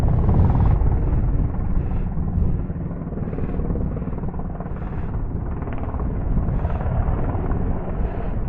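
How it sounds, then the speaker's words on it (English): A helicopter flies overhead in open Peak District hill country, its steady rotor drone pulsing in a continuous low rumble, fairly loud and rising slightly as it passes, with some wind noise. "Helicopter."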